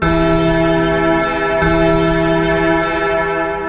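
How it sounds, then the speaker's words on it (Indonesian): A large bell rings with a sustained, resonant hum and rich overtones, loud and steady throughout. "terdengar sebuah suara lonceng"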